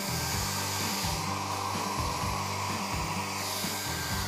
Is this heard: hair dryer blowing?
yes